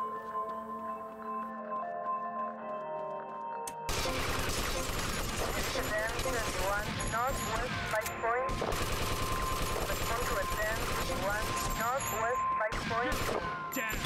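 Rapid bursts of gunfire from a GTA Vice City shootout, loud and dense after a quieter opening, with sustained automatic volleys and scattered single shots layered over game sounds and talk.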